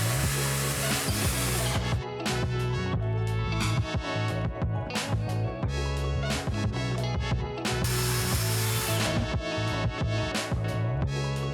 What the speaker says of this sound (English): See them drill a hole in the bottom of the tank